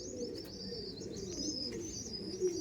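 Madrasi pigeons coo softly and continuously at a pigeon sale, a low throaty murmur under thin high chirps, with no talking.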